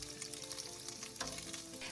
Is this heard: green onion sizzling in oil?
yes